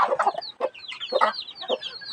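A mother hen clucks near two newly hatched chicks, giving short, throaty clucks in a steady series, close and clear, with faint higher cheeping woven between the calls.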